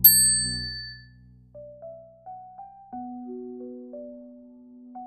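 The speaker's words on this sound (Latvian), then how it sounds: "noskandinām zvaniņu un klausāmies, kad skaņa izzudīs" A small handbell is struck once, ringing out bright and clear and then slowly fading, followed by a few faint, soft tones in a quiet room.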